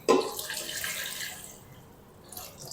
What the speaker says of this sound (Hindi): 1 लीटर पानी शामिल कर देंगे।